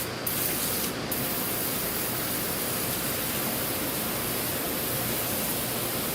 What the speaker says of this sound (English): So I'm going to go ahead and spray this a little bit.